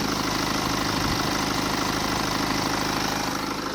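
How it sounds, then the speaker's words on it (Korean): A 2019 BMW 6 Series GT 20d diesel engine idles steadily up close, a dense, even rumble with a faint regular knock and no voices. "바로 엔진음 들려드릴게요"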